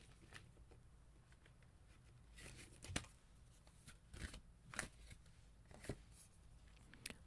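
A tarot card deck is shuffled close by. Quiet riffling patters and a few sharp snaps come in uneven bursts, with no voices.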